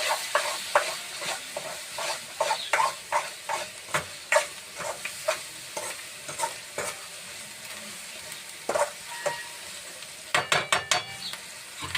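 A spoon stirs chopped coriander into a sizzling, roasted-eggplant dish in a pan. Steady frying hiss runs under frequent sharp clinks and scrapes of the spoon against the pan, close by and with no talk.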